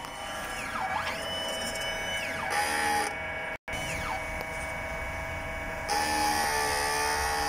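A DTF printer runs its print head cleaning cycle, with whining carriage and pump motors that rise and fall in pitch, one abrupt brief cutoff midway, and a loud, continuous mechanical drone close by.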